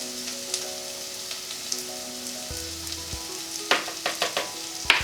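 Vegan cottage pie filling with stock gets a quick stir in the pot, a low bubbling sizzle followed by a short burst of spoon scrapes and clinks near the end.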